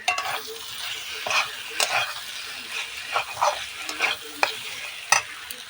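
Jackfruit and prawn curry being stir-fried with spice paste sizzles loudly and close, with repeated scraping stirs of a spatula against the pan at an irregular rhythm.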